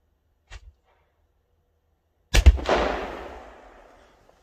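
A Metal Mania pyrotechnic device in a cato test: a faint click, then a sudden loud blast with a crackling, hissing burst that fades out over about two seconds.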